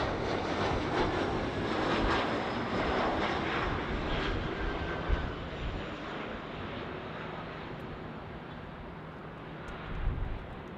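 A United Express SkyWest airliner at LAX airport roars past with a broad, steady jet engine rumble and whine, loud and sustained, slowly easing off toward the end with no talking.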